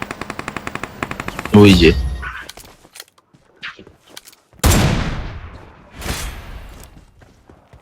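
Gunfire in a shooting video game: a rapid burst of automatic shots opens, followed by several loud single blasts and echoing reports, with a man's brief speech in between.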